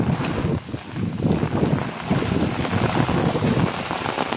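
Heavy monsoon rain pours steadily on surfaces in the Konkan, a dense, continuous hiss with gusty wind buffeting the microphone throughout, no voices.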